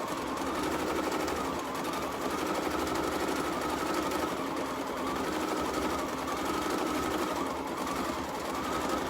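An embroidery sewing machine stitches out a quilting pattern with a steady, fast mechanical whirr and rapid needle chatter, running continuously and close by with no voices.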